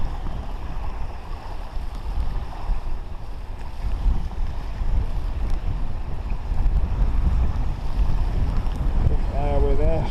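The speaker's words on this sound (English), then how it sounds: "There's such a wind here." Strong wind roars steadily across the microphone on the Swale estuary in Kent during sea fishing in snow, a loud continuous buffeting rush with no clear breaks.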